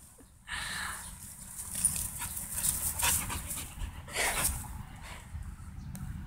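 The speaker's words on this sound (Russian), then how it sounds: "Счастливый пес." A dog in a new harness pants steadily and softly at the ruins of Cisy castle, the quick breaths running under faint outdoor background noise with no talking.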